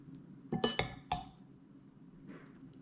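A spoon taps and clinks against a plate while chili sauce is served, with three or four sharp, bright metallic clinks in quick succession followed by a faint soft scrape.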